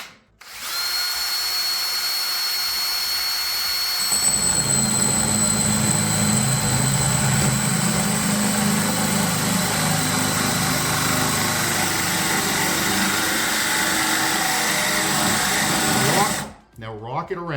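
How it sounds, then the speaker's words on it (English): A power drill grinds steadily and loudly for a long stretch after a brief whine, cutting a hole in a quartz countertop, then stops abruptly. "Put this down and just start drilling, and then you tip it up into the hole."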